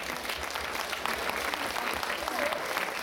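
A crowd at a trade fair claps to welcome guests on stage, sustained moderate applause with a brief whistle-like tone near the end.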